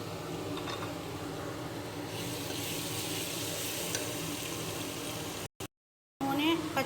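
Tomato paste sizzling in hot oil in a pan, a steady dense hiss close up that cuts out abruptly near the end before resuming, with faint background noise.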